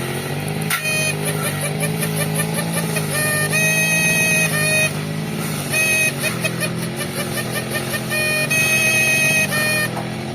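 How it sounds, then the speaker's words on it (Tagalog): Car engine idling with a faulty throttle that dies when the gas pedal is released, a steady dense mechanical hum with a whirring throttle servo and bursts of high buzzing, heard close and loud. "pakinggan nyo yung tunog ng servo."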